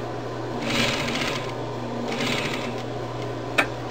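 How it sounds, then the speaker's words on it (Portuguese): An electronic quilting sewing machine stitching a quilted phone holder, with two short bursts of rapid mechanical stitching, a low steady hum between them and a single sharp click near the end. "E você vai fazer uma costurinha de segurança,"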